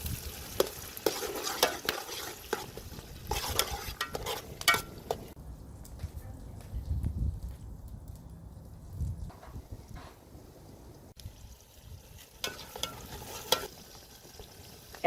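Garlic, onion and green chillies sautéing in a pan for Sri Lankan mutton kothu roti. A stirring spoon scrapes in bursts over a soft sizzle, with a quieter lull midway before the scraping resumes.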